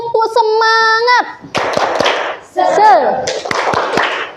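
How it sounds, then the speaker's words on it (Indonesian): A classroom group does a rhythmic spirit clap, bursts of sharp hand claps alternating with loud chanted voices in a quick call-and-response pattern. "Kita tepuk semangat dulu ya biar semakin semangat."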